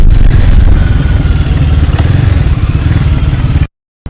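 Motorcycle engine droning steadily on a highway during a long solo ride in the rainy season, loud and close with a throbbing low rumble, then cutting abruptly to silence near the end.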